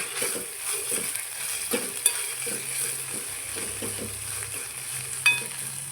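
Ginger garlic paste sautéing in a pan for vegetable pasta, a steady soft sizzle with intermittent scraping stirs of a spoon and a couple of brief metallic clinks, fairly close and continuous.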